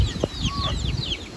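Chickens clucking, adult birds a year or two old, several short clucks and chirps close by over a low background murmur.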